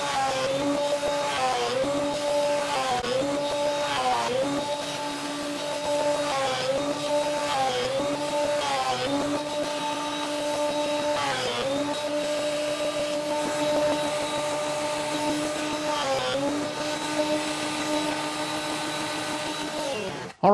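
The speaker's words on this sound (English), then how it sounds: "So it's on to re-thicknessing the body." A thicknessing machine takes a wooden guitar body down to 1 5/8 inches, its whining motor dipping and recovering in pitch every few seconds as passes bite into the wood, fairly close and steady.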